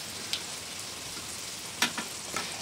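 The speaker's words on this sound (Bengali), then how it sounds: "এবার এগুলোকে আমরা তেলে ভেজে নেব" Homemade liver-filled singaras fry in a small amount of moderately heated oil, giving a soft steady sizzle with a few brief crackling pops; quiet and close, with no talk.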